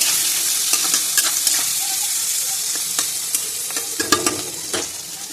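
Onions frying in a pan for a chicken dish give off a continuous close sizzle, with sharp scraping stirs and taps around the middle and end, and nobody speaks.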